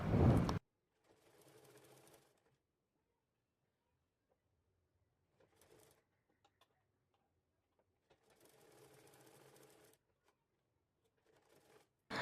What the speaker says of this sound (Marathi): तिथे मी आता मार्किंग करून घेतले ना, तिथे पहिली शिलाई मारून घेते।